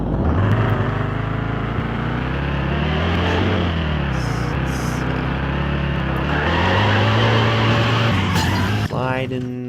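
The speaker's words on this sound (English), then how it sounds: "It slides around and spins wherever it wants." A BMW stage-tuned car in Garry's Mod skids and spins, a loud continuous engine drone with rising and falling pitch and tire squeal, ending in a brief screech, with a person talking over it.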